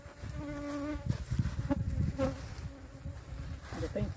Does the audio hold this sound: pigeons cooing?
no